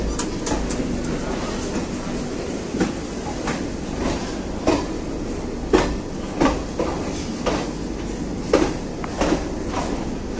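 The Garib Rath Express rolls out of Jamalpur Junction with a steady, loud rumble and a run of sharp rhythmic clacks from the wheels passing over rail joints as it picks up pace.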